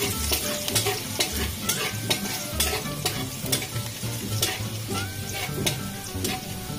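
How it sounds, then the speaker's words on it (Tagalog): Chopped garlic frying and being stirred in a hot pan for tokwa sisig, a steady close sizzle with repeated scraping strokes of a utensil throughout, no voices. "ilagyan na natin itong bawang"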